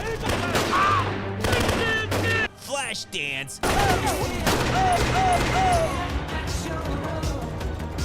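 Rapid bursts of gunfire crackle through a loud action movie scene, with brief pauses and a voice speaking over the shooting.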